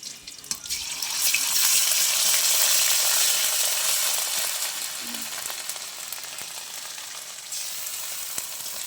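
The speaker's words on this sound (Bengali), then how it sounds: "এটা একটু ভেজে নেবো আমি।" Ginger garlic paste hisses and sizzles in hot oil in a Bengali fish curry pan, a dense, steady frying hiss that swells loudly, then eases slightly, with no one talking.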